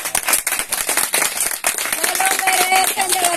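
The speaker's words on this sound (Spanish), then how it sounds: "Un aplauso para todos." A crowd of elderly guests at a Spanish-speaking gathering claps, with dense, irregular hand claps overlapping a cheerful voice and a brief melodic tone near the end.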